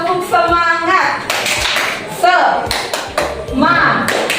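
Schoolchildren in a classroom in Ende perform the 'tepuk semangat' clap pattern, with sharp, grouped hand claps alternating with chanted voices in a quick, repeating rhythm.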